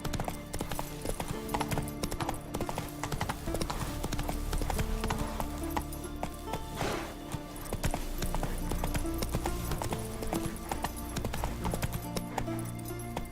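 The horse Roach trots in The Witcher 3, its hooves clip-clopping in a quick, steady rhythm that goes on without a break. A short whinny sounds partway through, and a faint game backdrop plays underneath.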